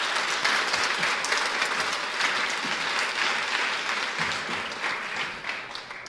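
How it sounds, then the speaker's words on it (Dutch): An audience at a civic education event gives warm applause for an alderwoman and a teacher, a full, continuous roar of many hands clapping that holds steady and then starts to thin near the end. "Zou ik dan nu een hartelijk applaus mogen voor wethouder Simone Kukenheim en"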